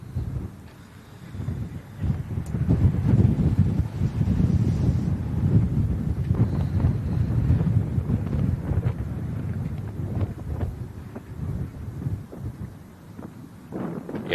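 Heavy wind buffets the microphone outdoors at an airport, in low, rumbling gusts that rise and fall continuously, with no one speaking.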